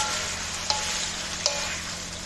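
Sac kavurma meat frying on a griddle with onion and pepper gives a steady, close broadband sizzle throughout, with two brief stir clicks, and no talk.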